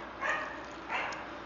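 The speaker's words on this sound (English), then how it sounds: "Biggie is coming downstairs and barking." A dog named Biggie barks twice indoors while coming downstairs, two short, faint, muffled barks spaced about half a second apart.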